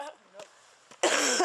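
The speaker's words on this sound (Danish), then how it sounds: "Og jeg hoster lige nu stadig." A cough from a traveller cycling in snowy cold on a high road between Lhasa and Kathmandu, one loud harsh burst at the end after quieter breathy sounds, close to the microphone.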